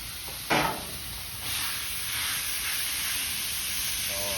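Thin-sliced tenderloin fajitas hitting a hot Blackstone griddle, a sharp burst of sizzle followed by a steady, even hiss of frying that carries on at moderate volume, with no talking.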